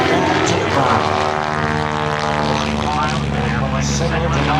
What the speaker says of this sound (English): he brings the stock steerman very, very gracefully through the skies above Sun 5